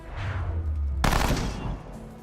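A sharp gunshot goes off in the Element Space video game, a sudden loud blast partway through over a low rumbling background, then a decaying tail.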